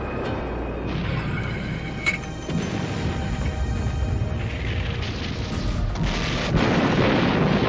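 A massive artillery barrage of nearly 1,000 big guns pounds a mountain hillside on Monte Camino, a continuous rumbling roar with scattered sharper booms layered throughout.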